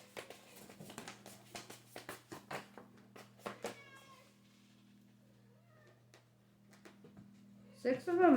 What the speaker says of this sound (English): watching my cats trying to escape